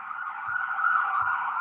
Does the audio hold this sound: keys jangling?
no